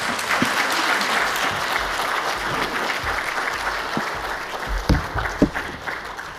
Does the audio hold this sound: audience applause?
yes